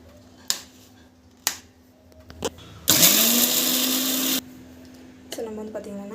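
A kitchen mixie whirs loudly for about a second and a half as it grinds pulicha keerai kadayal, a sorrel leaf paste. Sharp taps and clicks come before the run, and the motor winds down after it.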